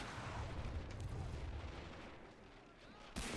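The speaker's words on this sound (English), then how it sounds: "explosion!" A large booming explosion in the Men of War Assault Squad game during a coastal commando raid in Norway rumbles loud and low, then decays over a few seconds before a second sharp blast cuts in at the end.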